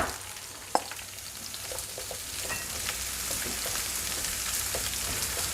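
Chopped vegetables, including onion, sizzle steadily in hot oil in a pan for chicken with black bean sauce, a dense crackling hiss with a sharp clatter as they drop in and faint stirring scrapes, no voices.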